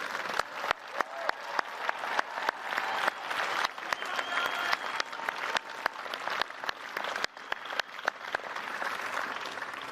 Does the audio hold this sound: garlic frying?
no